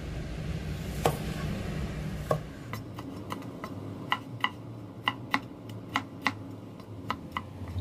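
A knife thinly slicing shallots taps sharply on a cutting board in a quick, uneven series of crisp chops, fairly close, with no talking.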